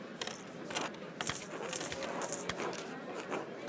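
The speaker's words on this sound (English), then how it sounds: "With 4 players, we each ante a penny." Pennies clink as they are anted into the pot in the video game Pentiment, several light metallic coin drops tumbling one after another, close and crisp, with no speech.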